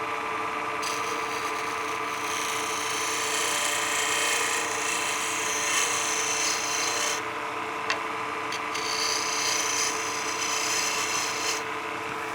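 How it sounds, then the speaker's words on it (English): A negative rake scraper cuts wood on a lathe while a pizza cutter handle is being turned, giving a steady, continuous rasping scrape with slight swells as the tool moves back and forth, close and alone. "The negative rake scraper is really good at blending curves because all you're doing is focusing on getting that tool back and forth"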